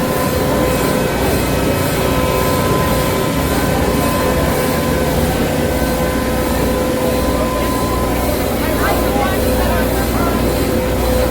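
A boat engine on the Liberty Belle riverboat at Magic Kingdom runs in a loud, steady mechanical drone with a low throbbing hum and faint tonal whine, close by.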